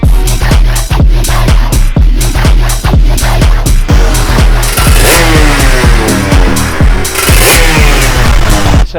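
An old four-stroke superkart engine runs loud and close, its rapid, rasping pulse holding steady with slight rises and dips in revs, with no other sound over it.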